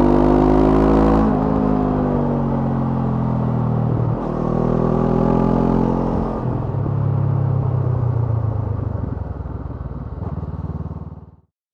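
A Honda CB500X adventure motorcycle rides along a dirt road with ABS switched off, its engine droning steadily and loudly before the sound cuts off abruptly at the end.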